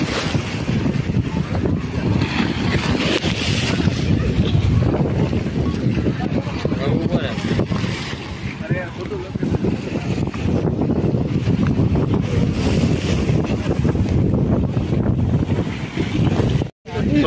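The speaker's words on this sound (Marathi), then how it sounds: "लाटा पाक अंगावर यायला लागल्यात, पाणी बरंच साठले बाबा" Sea waves wash and splash over the walkway to the Haji Ali dargah in Mumbai, with strong wind buffeting the microphone in a constant roar and people talking nearby throughout.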